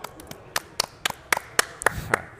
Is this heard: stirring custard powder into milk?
no